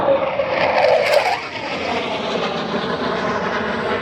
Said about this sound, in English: here comes the A4 over top for a left brake to land